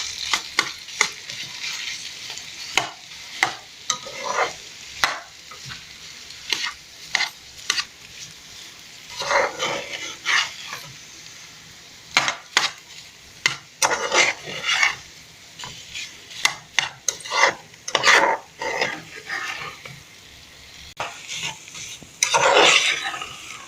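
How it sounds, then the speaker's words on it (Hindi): Mashed potatoes are stirred and mixed in a frying pan with repeated loud, close scraping strokes, irregular in rhythm. A soft sizzle runs beneath the strokes throughout. "थोड़ा सा फ्राई करके हम अब इसमें डाल देंगे मैश किए हुए आलू। और अब इसे हमें अच्छी तरीके से मिक्स कर देंगे।"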